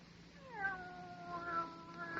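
A cat meows several times in rising, drawn-out wails, close and clear against a quiet room with a faint low hum.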